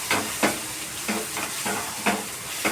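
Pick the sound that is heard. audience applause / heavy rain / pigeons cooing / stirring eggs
stirring eggs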